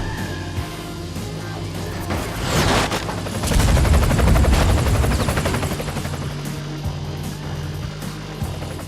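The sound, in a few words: helicopter flying in a video game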